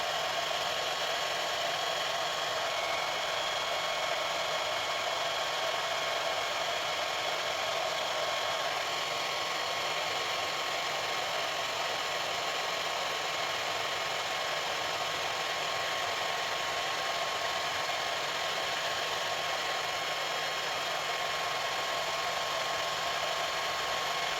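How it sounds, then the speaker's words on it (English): A hair dryer on its lowest heat and speed blows with a steady, even whir, running continuously at a moderate level with no other sounds. "I keep the heat and the speed level of the hairdryer to a minimum."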